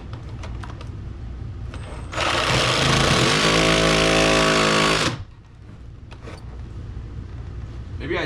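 Power saw fitted with a carbide grit blade cutting through old plaster and lath, a loud rasping whine lasting about three seconds, with quieter handling noise before and after.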